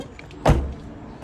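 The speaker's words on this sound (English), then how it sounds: "I'm actually just going to shut the front door because I think it might rain any second." Front door of an AutoTrail Apache motorhome shut once, a single close, solid thump with a short low rumble after it, outdoors against quiet background.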